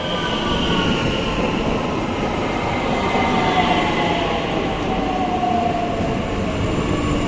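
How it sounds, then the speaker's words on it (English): A Bombardier Talent 2 train in Nuremberg rolls along with a loud continuous rumble and rising, gliding electric whines, steady throughout with no talking. "Let's start off with the Bombardier Talent 2 trains."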